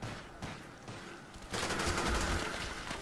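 Video game gunfire: a few sharp shots early on, then a dense, loud burst of rapid fire that continues to the end, with no talk over it.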